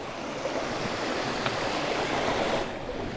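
Creek water rushing steadily near a mountain trail around Mt. Washington, a broad continuous wash of flowing water with a little wind noise, loud and even throughout with no voices.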